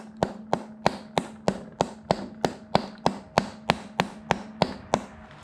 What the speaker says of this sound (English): you want to take a rubber mallet, just lightly